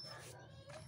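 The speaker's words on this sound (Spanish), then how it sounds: "tengo un perro que no me deja hablar que empieza a ladrar" A dog giving short whimpering yips, two brief close calls under steady background noise, with a person speaking.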